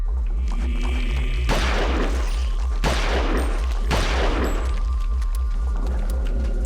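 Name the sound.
gunfire in the video game Eternal Darkness: Sanity's Requiem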